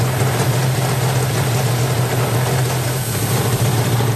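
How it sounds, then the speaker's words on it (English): A Yamaha RD500 YPVS motorcycle engine runs at a steady idle, a loud, continuous low hum and buzz with no break or change, heard alone without any talk. "Start the engine"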